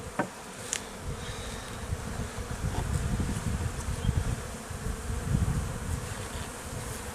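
Honey bees at an open beehive during a full hive inspection, with a dense, continuous buzzing swarm close by and a few louder individual bees passing near.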